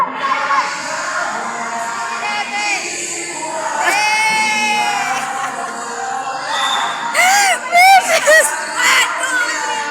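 A crowd cheers and shouts, loud whoops and high excited yells rising in bursts toward the end over a continuous wash of voices.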